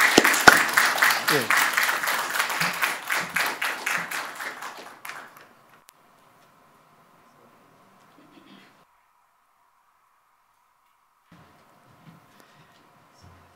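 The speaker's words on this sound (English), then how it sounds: "So please, let us give them a warm round of applause." Audience applause at an annual results report event, loud and dense at first, then thinning out and fading over about five seconds into near silence with faint room noises.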